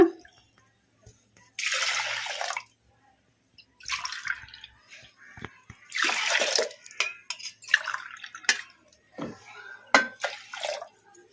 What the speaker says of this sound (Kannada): ನೀರು ಹಾಕೋಣ